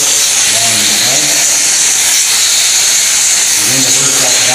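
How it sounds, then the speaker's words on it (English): Loud, steady hiss of a steam cleaner jetting across tile and grout, a continuous rushing spray with faint mechanical undertones that never lets up. "we can just simply put a nice little layer of steam along here"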